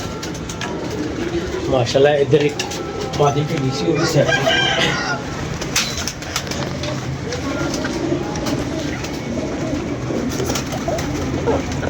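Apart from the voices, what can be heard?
pigeons cooing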